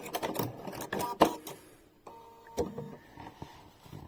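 Sewing machine running very fast through a zigzag satin stitch on fabric backed with stabilizer, giving short mechanical bursts of whirring and clatter with brief pauses, close and fairly quiet, with no talking.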